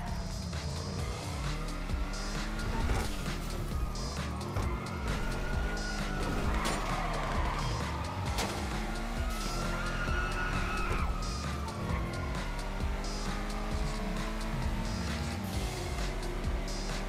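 A car driving through the streets in GTA Online with tires squealing and skidding, engine and tire noise filling the whole stretch, busy and fairly loud throughout, with music or game sounds layered underneath.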